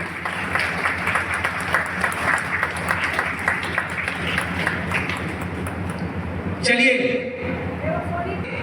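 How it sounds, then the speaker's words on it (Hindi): An audience claps at a public political gathering, a dense, steady patter of applause that carries on for several seconds and swells near the end. "चलिए बहुत एक जोरदार तालियां होनी चाहिए।"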